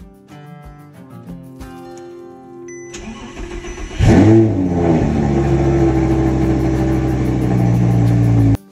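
Audi R8 with new alignment starting up, then accelerating hard with a loud, rising engine roar that holds steady near the microphone, no talk.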